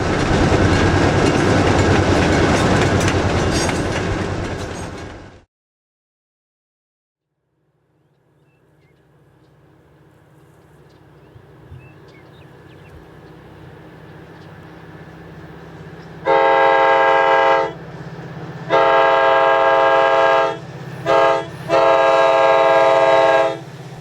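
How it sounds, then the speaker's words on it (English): GP 15-1 locomotive number 112 leads an eastbound freight on California Northern's West Side Subdivision; loud rumbling passes then cuts off, the engine approaches again from afar, then sounds a series of horn blasts up close. "We chased GP 15-1, number 112 for a while as it headed up an eastbound freight on California Northern's West Side Subdivision"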